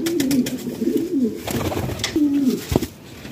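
A pigeon of a red-skinned, crested fancy breed coos close by in repeated throaty, rolling phrases, with light rustling and a sharp knock near the end.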